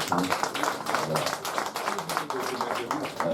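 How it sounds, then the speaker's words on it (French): Audience applause for a singer at an album press conference in an indoor workshop space, dense steady clapping throughout with a few louder claps standing out and a murmur of voices beneath. "Je voulais que vous applaudissiez fort pour le"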